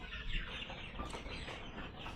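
Broiler chickens on a poultry farm housing over a thousand birds give faint, scattered clucks against a quiet shed background, with a soft thump at the very end.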